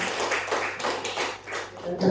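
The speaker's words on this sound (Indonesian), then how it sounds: "Tepuk tangan dulu dong." A short burst of hand clapping from a group, a quick run of even slaps lasting about two seconds, with voices mixed in underneath.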